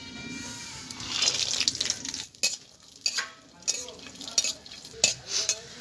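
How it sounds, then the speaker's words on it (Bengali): Cashews and raisins frying in ghee in a pan, a soft sizzle under scattered stirring scrapes and light clinks of a spoon against the pan, fairly quiet and close. "এগুলো আমি এই ঘিয়ের মধ্যে ভেজে নেব।"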